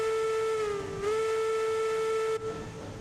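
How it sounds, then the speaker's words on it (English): A steam locomotive whistle sounds in the train game Railroads Online, set in a snowy winter scene. One loud, steady, harmonic-rich blast dips briefly in pitch, then cuts off sharply after about two and a half seconds. "Whistle sounds good."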